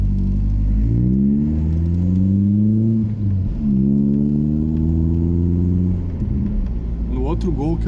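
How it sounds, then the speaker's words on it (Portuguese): A 2003 VW Gol Power with a straight-pipe exhaust runs at low rpm, its deep engine note steady and loud. The pitch rises and falls in a few gentle swells before settling back, with a brief higher-pitched sound at the very end. "E já com o cano reto, quando não tá acelerando, ele num giro mais baixo, até que fica bem baixo aí o ruído"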